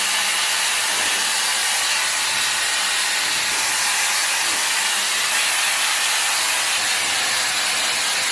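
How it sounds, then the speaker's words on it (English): A hair dryer runs steadily with no attachment fitted, rough drying hair in a loud, continuous whooshing hiss that holds throughout without pause. "I'm literally just going to quickly rough dry my hair."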